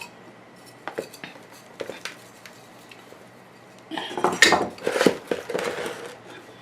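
Clean, fresh plant pot handled for repotting a Hoya, giving scattered light knocks and clatters that build into a denser burst of scraping and rattling near the end, close and fairly quiet.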